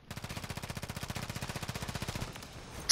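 Automatic weapon fire in a Call of Duty match: a long, fast, evenly spaced burst of shots rattles for over two seconds, then cuts out abruptly.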